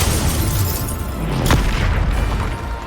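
A loud booming explosion from a Bombarda spell in the Hogwarts Legacy video game, a single blast rising out of dense, continuous combat noise.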